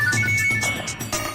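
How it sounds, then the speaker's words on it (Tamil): A phone rings with an incoming call, a bright electronic ringtone melody repeating in quick bursts, loud and close with no talking over it. "madam phone பண்றாங்கடா"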